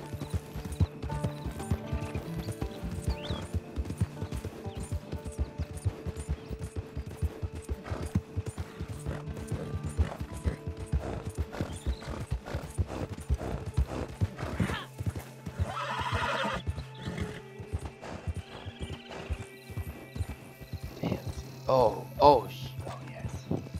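A horse in Red Dead Redemption 2 gallops with a fast, continuous clip-clop of hooves, loud and close, and gives a neigh partway through, while a player talks over the action.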